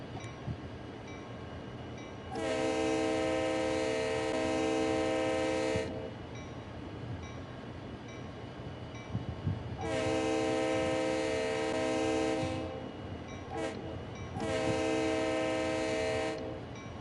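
A CSX freight train rolls past near Cook's Mills, sounding its horn in three long blasts with a short toot between the last two, loud and close over the steady rumble of the moving cars, with no one speaking.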